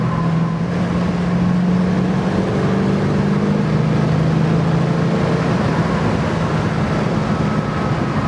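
A 1967 Ford Mustang engine accelerates hard, a loud, steady, throaty roar with a slowly climbing pitch, heard up close from inside the car.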